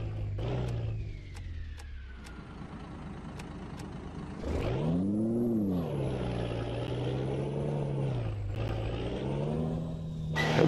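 Volvo FH16 truck in a simulator game, climbing a mountain road at Serra do Rio do Rastro: a steady diesel drone with a revving surge around the middle as the engine pitch rises and falls, loud and continuous, with no talking.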